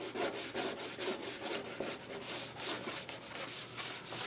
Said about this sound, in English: I've got some 220 sandpaper, which is a whole different animal than the 180.